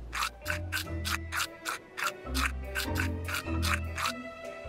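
Rhythmic toothbrush scrubbing from the video game Manuel Samuel, a steady series of about a dozen brisk rubbing strokes over a low background music hum, close and fairly loud.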